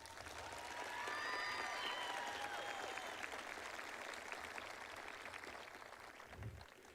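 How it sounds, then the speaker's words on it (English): A high school audience applauding Ms. Cobb, a dense sustained crowd clapping with a few whistles or cheers early on, fading slightly toward the end. "Let's all give Ms. Cobb a round of applause."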